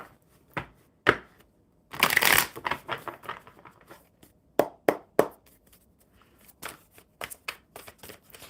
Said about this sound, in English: One more good shuffle for Helen.